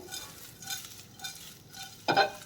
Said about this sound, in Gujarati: સારી રીતે બધું જ મિક્સ કરી દઈશું